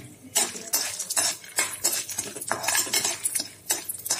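Peanuts roasting in a pan over a medium gas flame, stirred with a utensil that scrapes and clinks against the metal in repeated bursts, fairly close and loud.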